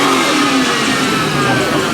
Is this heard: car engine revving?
yes